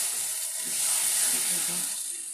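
A steady, close hiss and sizzle comes from jute leaves cooking in a generous amount of oil in a pan. It swells slightly with faint stirring noises and has no voices over it.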